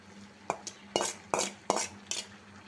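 A utensil scrapes and knocks against a pan five or six times, stirring chopped boiled eggs into potatoes, each stroke a short sharp clatter over a faint background hum.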